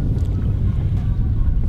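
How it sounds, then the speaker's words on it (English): Strong wind buffeting outdoors on the water under a gathering storm, a steady low rumbling roar with gusty pushes close to the microphone, no talk. "The wind's picking up."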